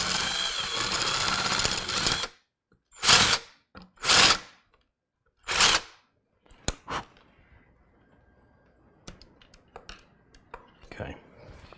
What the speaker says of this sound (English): So I'm going to grab the biggest drill bit I've got.